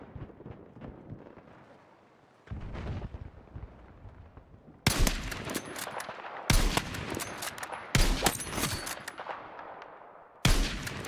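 Sharp gunshots from an SV-98 sniper rifle in a shooter video game crack out as loud, widely spaced single blasts, about five of them, each ringing briefly over a low background of game ambience.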